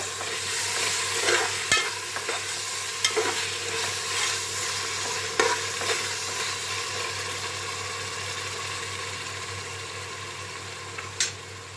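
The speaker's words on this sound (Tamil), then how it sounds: "தயிர் வந்து ஒரு நூற்றி ஐந்து நூற்றி இருபத்தஞ்சி கிராம் இருக்கோங்க நல்லா கிண்டிக்கலாம் அடி பிடிக்காத அளவுக்கு" A yogurt and coriander masala for mutton biryani is stirred in a pan, giving a steady close sizzle with scraping spoon strokes at irregular intervals.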